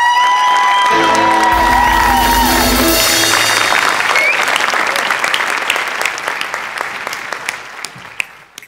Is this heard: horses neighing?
no